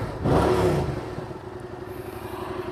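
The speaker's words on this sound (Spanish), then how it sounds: "Entonces escuchen el motor" A Yamaha MT-07 or XSR700 motorcycle engine idles close by, with a brief rev swell at the start settling into a steady, low pulsing idle.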